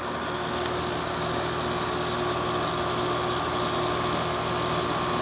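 An older Haier HWC05XCB window air conditioner running, its compressor and fan producing a steady, even hum with a faint tonal drone, close and constant throughout.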